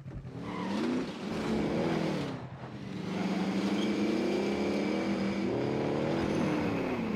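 A car engine in a video game revs and drones steadily, its pitch rising and falling as it accelerates, loud and continuous for the whole stretch with no talk.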